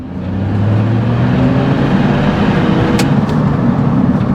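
A remapped Smart 451 Brabus car pulls hard at full throttle from second gear around 20 mph, its engine droning loud and steady as it builds boost close by, with a couple of brief sharp clicks partway through.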